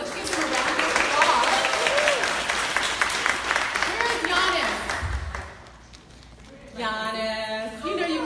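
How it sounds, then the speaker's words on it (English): An audience at a Blogalicious pop-up event in Atlanta breaks into dense, loud applause mixed with cheering voices. It fades out after about five seconds, and then someone begins speaking. "So let's give them a round of applause."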